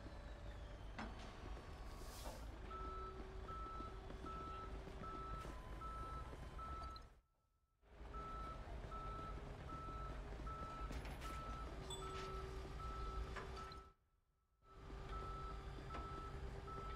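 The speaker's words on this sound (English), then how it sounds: "Can you send a tow truck to my current location?" Steady, evenly spaced reversing beeps from a tow truck in the police patrol game Police Simulator, repeating over a constant engine rumble, briefly cut out twice.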